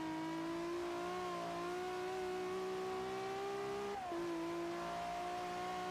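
Car engine in the Forza racing game revving hard through a tunnel, a sustained rising drone with a brief dip as it shifts gear, steady and unbroken with no voices.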